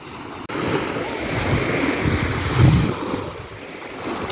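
Sea waves breaking behind a pier on an Odesa beach on the Black Sea, a steady close wash of surf with gusty wind across the microphone and no voices.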